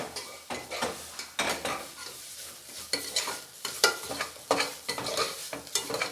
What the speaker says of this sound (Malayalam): നമ്മളതിൻ്റെ പച്ചമണൊക്കെ ഒന്ന് മാറി വരുന്നവരെ നല്ലോണം ഒന്ന് വഴറ്റി കൊടുക്കാം